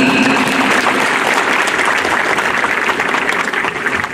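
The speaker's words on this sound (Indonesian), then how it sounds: "Kita berikan aplaus yang luar biasa dulu" Loud, dense applause from an audience gathered on a field at a student Pancasila camp, steady and continuous throughout before thinning slightly at the end.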